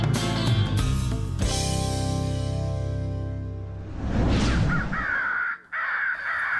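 Crows caw loudly and close, several harsh calls overlapping in a dense burst before trailing into a single thinner caw near the end.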